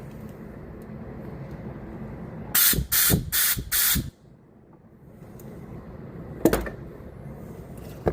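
Compressed air blasts through a Honda GCV carburetor during fuel system cleaning: four loud, close hissing bursts of about half a second each in quick succession, a quiet pause, then one shorter blast.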